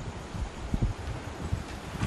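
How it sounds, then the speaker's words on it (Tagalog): Strong wind gusts over an abandoned island, a faint rough rush of air buffeting the microphone in uneven bursts. "Lumakas yung hangin."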